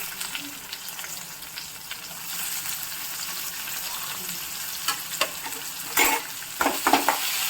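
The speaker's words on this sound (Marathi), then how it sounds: "आता मी बारीक चिरलेला कांदा टाकते." Finely chopped onion sizzles and fries steadily in a kadai for kadhai pulao, a continuous crackling hiss with a few louder stirring pops near the end, no talking.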